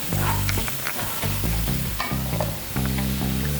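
Onions sauté in a pan for chicken ghee roast, a steady close sizzle and fry broken by repeated scraping stirs of a spoon against the pan, with no talking.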